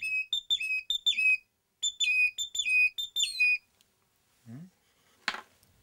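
A small wooden bird-call whistle made to imitate a great tit plays a run of crisp, high two-note whistles in quick bursts, close and clear in a quiet room, followed by a brief low sound and a soft thump.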